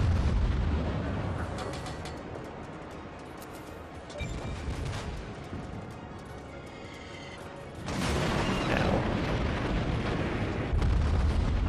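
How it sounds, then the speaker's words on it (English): Warship main guns firing at a destroyer in the naval combat game World of Warships, with booming salvos and a louder burst near the end over a constant rumble. "He's opted to keep shooting at this destroyer for some reason."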